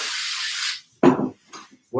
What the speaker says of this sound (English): all I'm going to do is just spray a little glue onto our pumpkin